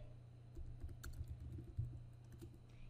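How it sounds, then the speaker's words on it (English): A computer keyboard is typed on in short, soft bursts of key clicks, faint and fairly close, over a low background hum with no voices. "type a name for it"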